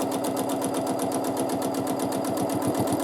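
Sewing machine stitching free-motion quilted feathers with a free motion quilting foot, a fast, steady needle chatter with even mechanical pulses at close range, heard alone.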